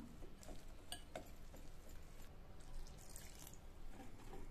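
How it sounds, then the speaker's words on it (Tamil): Water trickling and splashing into a bowl of wheat flour batter for dosa, faint close pouring with small drips and a light clink of utensils. "கொஞ்சம் கொஞ்சமா தண்ணி சேர்த்து மாவை கரைச்சிக்கலாம்"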